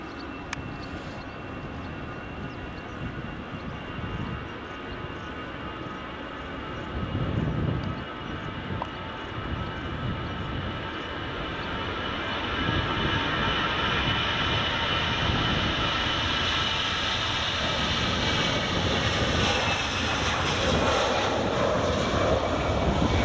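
EasyJet jet airliner taking off from runway 24 at Edinburgh Airport, a distant engine roar that builds steadily into a loud, sustained rumble with a rising whine toward the end, no voices.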